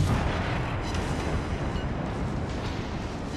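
Naval ship guns firing in the video game World of Warships, heard as a loud, sustained, rumbling roar of heavy cannon blasts with no gaps.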